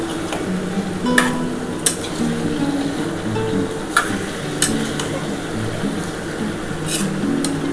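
Potato chunks stir into a chicken curry that is frying in yogurt and goat fat, with a low bubbling sizzle and scattered sharp clicks of a spoon against the pan.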